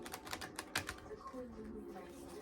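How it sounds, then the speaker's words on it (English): A deck of vampire oracle cards being shuffled, with a quick burst of crisp card flicks and riffles close by, then a softer rustle and faint voice underneath. "Let me shuffle these real good"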